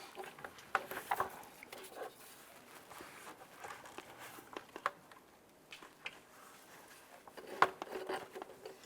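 Plastic air box on a 2001-2005 Honda Civic being worked back onto the filter box, scattered close rubbing, scraping and small clicks with a sharper snap near the end, quiet and irregular.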